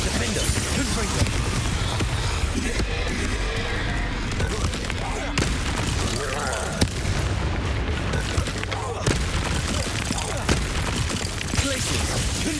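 Loud, dense spell-blasts and booming impacts from a troll fight in the Hogwarts Legacy video game, with frequent sharp bangs over a continuous rumbling battle din and a voice calling out at times.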